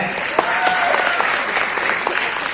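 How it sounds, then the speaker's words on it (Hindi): A packed auditorium crowd at a Delhi comedy show claps loudly and continuously, with scattered voices calling out above the steady roar of hands. "सर के पास शाहरुख को जोरदार तालियां।"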